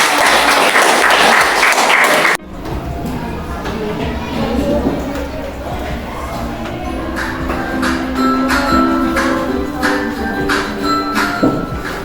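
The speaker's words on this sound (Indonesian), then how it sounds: "Oke, tepuk tangan." A burst of classroom clapping for about two seconds, then a room with murmuring voices, shuffling and light taps.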